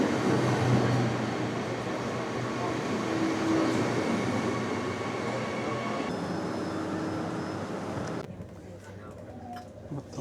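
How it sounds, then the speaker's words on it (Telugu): A train stands and rumbles at a station platform in Israel, a steady mechanical hum with murmuring voices mixed in, before the noise suddenly drops and goes quieter near the end. "ఈ ట్రైనే మనం ఎక్కాలన్నమాట."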